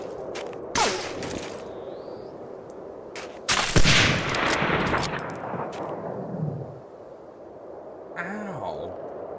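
Sniper rifle shots in Medal of Honor: Allied Assault, with several sharp cracks and a loud booming report midway that rolls into a long echoing tail, plus a few fainter distant shots and ambient game sounds.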